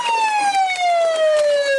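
A police car siren wails loud and close, one long falling sweep held across the whole moment with faint engine noise beneath.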